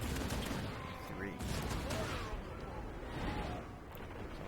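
Artillery batteries firing in the battle game Total War: Warhammer, a dense barrage of booming shots and rumbling impacts rolling continuously at moderate loudness, with a voice faintly underneath.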